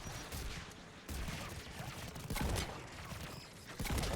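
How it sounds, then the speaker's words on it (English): Anti-aircraft guns in the video game Mass Effect 3 pound away in rapid bursts, a dense rattling barrage with heavy impacts that swells and recedes, quiet in the overall mix. "AA guns ahead of us."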